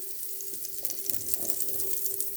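Margarine sizzles on a preheated waffle maker with a soft, continuous crackling hiss. A faint steady hum from the appliance sits underneath, and no one speaks.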